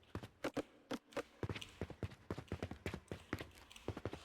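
Footsteps from the Unreal Engine game animation sample's MetaSounds play as a quick, irregular series of close, crisp thuds and taps, some paired like running steps, faint overall with no voices.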